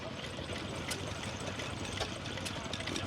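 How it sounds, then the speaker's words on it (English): A stationary steam engine pumping water runs steadily with an exposed crankshaft, giving a low, continuous mechanical churn and rumble with faint rhythmic knocks, heard at a quiet, moderate distance with no voices. "the stationary engines that make all sorts of great whirring and pumping and noises as they pump water"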